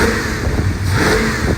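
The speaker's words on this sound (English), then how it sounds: "I'm going to try to rev it up when I'm outside so you can hear that exhaust a little more again." A running 1969 Chevrolet Chevelle revs its engine up close, with a loud, rough exhaust note that swells and rises through a couple of throttle blips.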